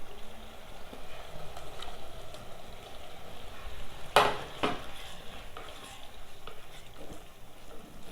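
Tomatoes sautéing in a pan for chicken gravy, a steady low sizzle with occasional stirring and a sharp utensil clatter near the middle, close by and with no talking.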